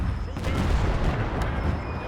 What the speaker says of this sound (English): it's this horse artillery here. I was going to say the cannons firing.